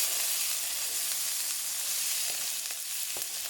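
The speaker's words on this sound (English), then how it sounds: "I'm going to be sauteing these vegetables before I put them into my couscous" Sweet peppers, onion, thyme and garlic sauté together in a hot pan, making a steady, dense, hissing sizzle throughout with a few faint stirring ticks.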